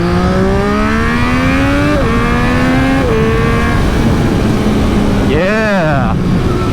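A 2020 Triumph Street Triple RS fitted with an SC Project S1 exhaust, baffle in, pulls loud and close through stepped gear changes, each rev climb dropping at the shift, then gives a quick sharp rev blip near the end over steady wind rumble.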